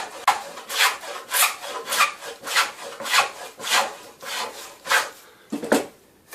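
A woodworking hand plane shaves a wooden bevel, held at about 45 degrees, in a steady series of about ten raspy strokes, each a short hissing scrape, close and clear with brief pauses between passes.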